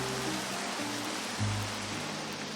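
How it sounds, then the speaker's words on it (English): Heavy Minecraft rain pours as a steady, dense hiss that stays loud and constant throughout, with a few low tones briefly sounding underneath. "that's loud rain"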